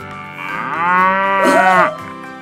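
A human voice imitates a cow mooing with one long, drawn-out, close and fairly loud moo that swells in the middle and then fades.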